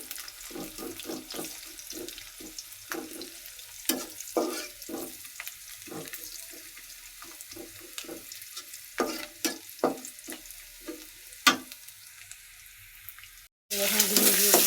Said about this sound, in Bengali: এখানে আমি এই যে পেঁয়াজ কাঁচামরিচ কেটে দিয়ে ভুনিয়ে নিচ্ছি তেলের